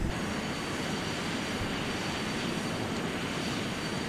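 Aircraft engine drone as a plane comes in to land with full flaps in a video game, a steady, broad, unchanging roar at moderate level throughout, with no speech.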